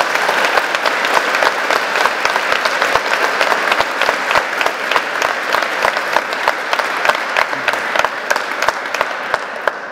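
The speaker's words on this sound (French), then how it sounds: "un tonnerre d'applaudissements pour Mao Roussel" An audience at a staged trial performance gives a thunderous round of applause for a witness: dense, loud, continuous clapping for the full stretch with no voices.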